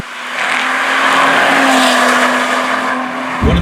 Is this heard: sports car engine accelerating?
yes